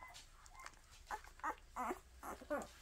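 Newborn puppies after tail docking give faint, high whimpers and squeaks in short repeated bursts, quiet and close against a soft background.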